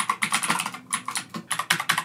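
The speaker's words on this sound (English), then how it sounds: "I'm typing in LED game controller neon sign" Rapid typing on a computer keyboard while searching online for an LED game controller neon sign, with close, crisp key clicks in quick irregular bursts separated by short pauses.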